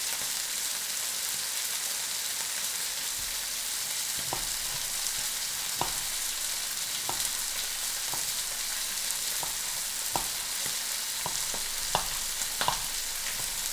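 Sausage pieces frying for rougail saucisse, a steady bright sizzle with scattered clicks and scrapes from occasional stirring in the pan, no voices.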